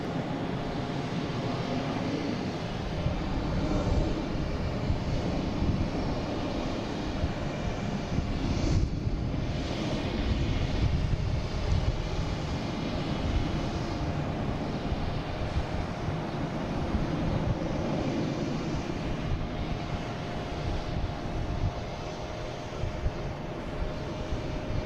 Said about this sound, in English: next coming in, we have JetBlue from Reagan, A220, flight 2954.